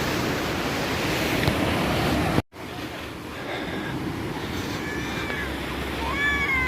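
Ocean surf on a beach near Krakatau rolls in as a continuous broad roar with wind buffeting the microphone, briefly cut out midway, then a child's high whining cries rise faintly over the waves.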